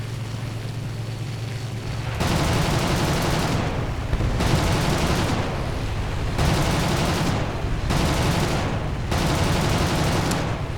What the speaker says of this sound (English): that allows me to put a full clip of my cannon ammo in there